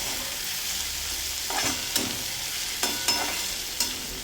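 Leftover chapati Chinese churma is stir-fried on a high flame with tomato and potato, a continuous sizzle broken by several scraping stirs of a spatula in the pan, with no talking.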